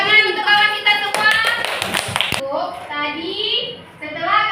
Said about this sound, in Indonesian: Tepuk tangan untuk kawan kita semua.